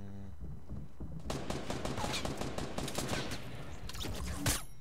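Rapid bursts of automatic gunfire in a Fortnite Battle Royale solo match, dense volleys of sharp cracks firing almost continuously, with one louder blast near the end.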